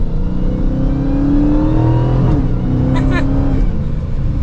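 A Dodge Charger SRT Hellcat Widebody, rear-wheel drive, rounds a turn at modest speed, its engine drone steady and close with a brief rise in revs midway, under someone talking throughout.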